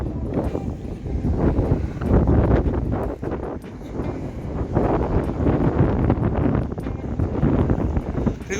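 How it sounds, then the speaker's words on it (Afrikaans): Strong wind blowing on the Atlantic coast, a continuous loud, rough roar buffeting the microphone, swelling and easing slightly throughout with no pauses. "Maar die wind is sterk."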